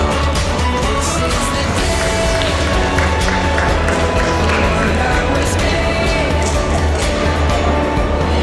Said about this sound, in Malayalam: ആന്റി എല്ലാവരും നല്ല കൈയടി കൊടുക്കൂ